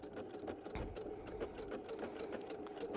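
A sewing machine couches over cording, its steady rapid needle chatter running continuously and close throughout, with a soft motor hum beneath.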